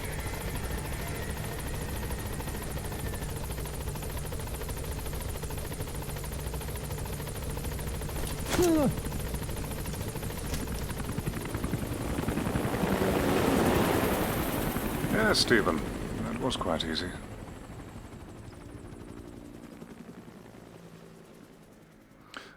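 A helicopter in the video game Metal Gear Solid 5 drones steadily, with rotor noise swelling toward the middle and then fading out. Brief game dialogue and a few sharp effects play over it.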